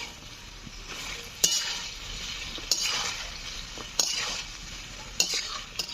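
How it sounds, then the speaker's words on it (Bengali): Drumstick stems sautéing in a pan hiss steadily, and a utensil scrapes and knocks against the pan every second or so, close and clear. "এবার আর কিছুক্ষণ কষে নেবো।"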